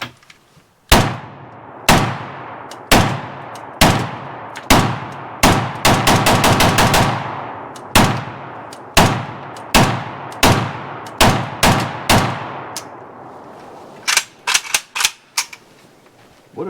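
Bulgarian Arsenal SAM7SFC carbine firing outdoors, loud sharp shots at first spaced about a second apart, then a quick burst of rapid shots, more single shots, and a final cluster of fast shots.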